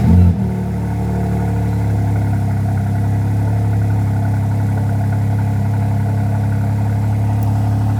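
A BMW G80 M3 with a modified exhaust fires up from cold with a sharp burst, then settles into a loud, steady, deep idle drone that holds for several seconds with no talking.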